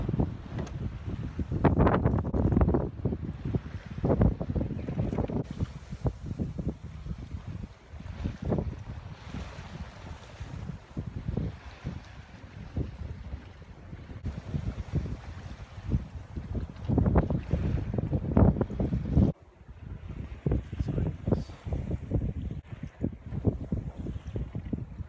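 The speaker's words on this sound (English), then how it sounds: "Wind was getting shifty. We had to tack out one more time to get into Inganish Harbor." Sailboat tacking toward Ingonish Harbor in shifty wind, with heavy wind buffeting on the microphone, rushing waves against the hull and irregular gusting bursts throughout, no voices.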